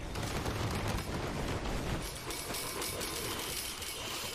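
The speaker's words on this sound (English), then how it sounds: "since it fires automatically, the capacitor will end up shooting at, you know, the destructible objects on the map" An automatically firing capacitor weapon in the video game Risk of Rain 2 crackles in dense, rapid bursts like a fusillade, continuous and fairly quiet, shifting tone slightly halfway through.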